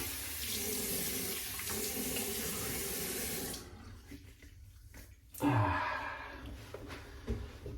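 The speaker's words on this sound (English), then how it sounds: "just apply the water to the brush" Tap water runs onto a shaving brush, a loud steady splashing stream for several seconds, then it stops, leaving quieter handling clatter and a few brief wet splashes afterward.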